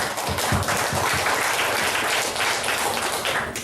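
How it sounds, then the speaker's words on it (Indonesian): An audience claps at the closing of a community health centre's reaccreditation event, a dense, steady applause of many hands, loud and continuous throughout with no talk over it. "Tepuk tangan dulu untuk kita semua."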